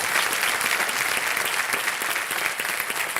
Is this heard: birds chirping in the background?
no